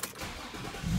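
An Infiniti G35 or Nissan 350Z engine cranks and fires up after a transmission fluid drain and fill, a brief close rumble that swells into a louder low roar as it catches.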